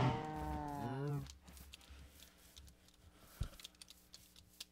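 Cows mooing in a blocky Minecraft-style survival game, one long lowing call up front that fades out, followed by faint clicks and small scattered game sounds.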